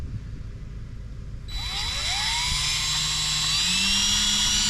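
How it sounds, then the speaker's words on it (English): A power drill with a 5/32 drill bit bores a hole while an anchor trolley is mounted on an Ascend 12T fishing kayak; after a short quiet start, a loud, steady whine kicks in close by and holds, its pitch shifting slightly as it cuts. "I'm gonna start smaller than the screw with a 5/32 drill bit"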